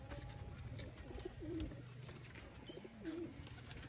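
A Sialkoti pigeon coos softly in a few low, rolling calls spread across a quiet stretch, with faint background noise and no talking.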